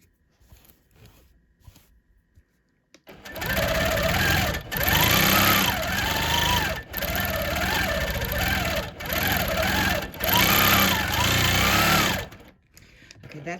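A domestic sewing machine runs in bursts during free-motion quilting of Christmas letters and words, a close rapid whirring hum in several runs separated by brief pauses.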